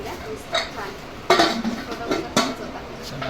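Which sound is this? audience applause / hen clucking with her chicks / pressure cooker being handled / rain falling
pressure cooker being handled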